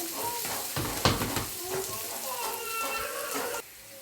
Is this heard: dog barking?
no